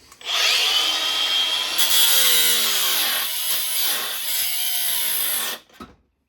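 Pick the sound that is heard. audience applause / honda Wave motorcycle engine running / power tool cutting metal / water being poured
power tool cutting metal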